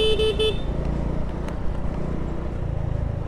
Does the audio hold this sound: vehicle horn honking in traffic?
yes